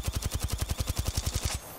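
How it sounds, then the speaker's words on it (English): A submachine gun fires in a video game as a fast, even automatic burst of about fifteen loud, close shots, then stops abruptly, with no voice over it. "if I stand still with the volt and I shoot, see how it goes left and right?"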